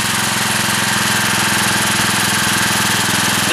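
A small generator engine running on wood-stove smoke during a load test gives a loud, steady, close drone with a constant low throb throughout and no talking.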